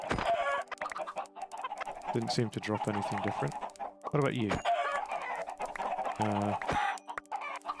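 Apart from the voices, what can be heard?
chickens clucking in the video game Minecraft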